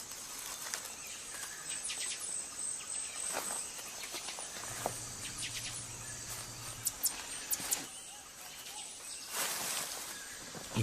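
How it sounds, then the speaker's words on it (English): A nighttime forest chorus of insects and frogs fills the air with a steady high shrill buzz and scattered chirps and calls, dense and continuous at a moderate distance with no voices. "serenaded by a chorus of frogs and insects"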